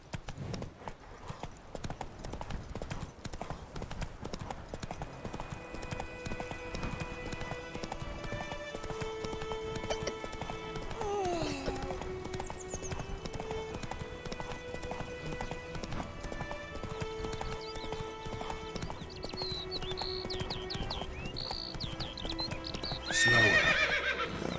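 A horse gallops in The Witcher 3 video game, a steady drumming of hooves throughout, with a few clear neighs and whinnies rising over it and a sharper burst near the end; quiet overall.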